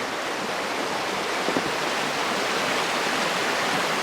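Steady rushing of a creek flowing while someone crosses it outdoors, a continuous broadband wash of water close by with no speech over it.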